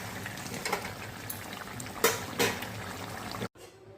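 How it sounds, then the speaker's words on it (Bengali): Fish pieces simmer in a spiced curry with water in a pot, making a soft, steady bubbling with a few louder gurgles and splashes before the sound drops off abruptly near the end. "এখন এর মধ্যে জল দিয়ে মাছগুলো দিয়ে 10 মিনিট ফুটিয়ে নেব।"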